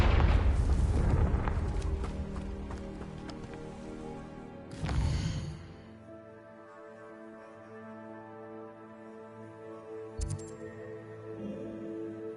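A Confringo fire spell goes off in Hogwarts Legacy with a sharp booming blast around the five-second mark. A rumbling explosive burst opens the clip, and a smaller crack follows later over a soft, sustained magical hum.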